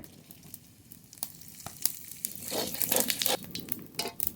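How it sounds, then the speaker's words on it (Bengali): Whole cumin seeds frying in hot mustard oil give off a faint, quiet sizzle with scattered crackles and pops that grow busier partway through. "ফুলকপির তরকারি রান্না করব তার জন্য ফরন করে নেব সর্ষের তেল গোটা জিরে"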